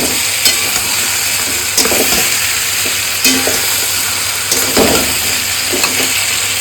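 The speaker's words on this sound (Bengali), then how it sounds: "এবার মাছের মাথাগুলো আমি দিয়ে দিলাম। ভাজা মাছের মাথাগুলো দিয়ে সমস্ত কষাবো।" Fried fish heads stir-fried in hot oil in a pan for muri ghonto, a steady loud sizzle with several sharp scraping stirs of a spatula at irregular intervals, no voices.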